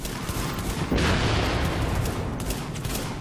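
Gunfire from a gun in Tom Clancy's The Division at the Warrengate Power Plant, heard as a steady spray of shots and rumbling combat noise, with a louder burst near the middle, at moderate level.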